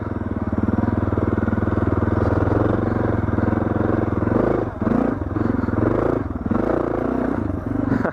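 A Suzuki DR650 motorcycle labors up a steep hill, its engine droning loud and steady with a low thumping note, mixed with clattering and scraping from the rough ground.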